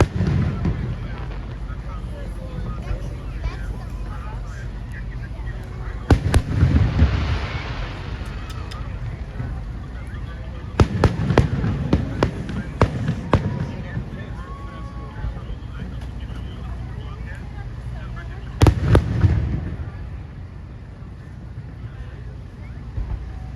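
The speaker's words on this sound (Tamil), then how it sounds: "இந்த ஃபயர் ஒர்க்ஸ் பார்த்தீங்கன்னா ஹெர்சி பார்க் உள்ளே போட்டாங்க" July 4th fireworks at Hershey Park boom in three loud bursts over a steady wind-buffeted outdoor rumble, with a crowd murmuring in between.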